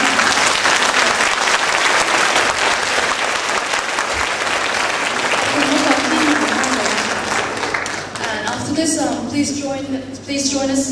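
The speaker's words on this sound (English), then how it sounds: "Can we just give him the last round of applause before we..." A large keynote audience at a science institute event in Thailand gives a sustained round of applause, loud and dense, with cheering voices rising near the end as the clapping thins.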